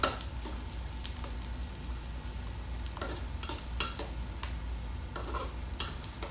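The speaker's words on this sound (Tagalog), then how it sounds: "So pag-gisa pa lang ito, naano mo na yung aroma ng sibuyas, bawang at saka luya." Onion, garlic and ginger sautéing in a pan, a steady sizzle under repeated stirring scrapes that come in short bursts every second or so, close and fairly quiet, with no voice.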